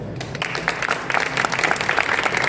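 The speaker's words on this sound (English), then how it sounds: "Let's just give our panelists a round of applause." Audience at a farm-technology conference panel applauding the panelists, dense close clapping sustained throughout the short stretch.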